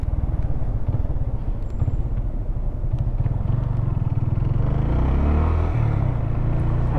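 A motorcycle engine rumbles steadily while riding on the Marginal Pinheiros in São Paulo, with traffic noise around it and the engine revving up near the end.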